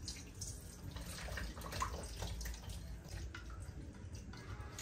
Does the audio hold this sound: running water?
yes